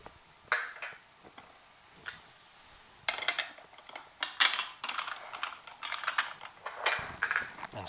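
Spoon scraping and clinking through shepherd's pie filling with ketchup in a pan, a series of sharp, irregular metallic scrapes and taps close by, no talking.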